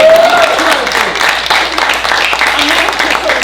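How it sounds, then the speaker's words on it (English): Audience applause at a magic show during the Hollywood Fringe Festival, a dense, steady wash of clapping lasting the whole moment, with a performer's voice talking over it. "applause anyway."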